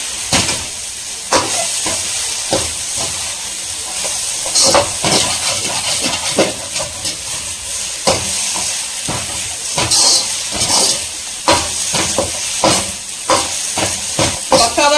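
Masala with coriander and mint cooks in a pan over a high flame for idli podimas, giving a loud, steady sizzle and hiss with irregular crackles and stirring knocks throughout.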